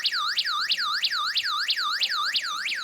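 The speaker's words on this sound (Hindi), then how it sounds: "अलार्म की आवाज़ इसकी बहुत अच्छी है।" A Hikvision security camera's built-in alarm siren wails in a fast, evenly repeating up-and-down sweep, loud and close, with no talk over it.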